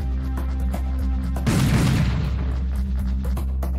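Gunfire in the Serious Sam shooter game bursts out as a dense, booming volley at mid-clip, over a steady low game hum, then fades back into the background drone.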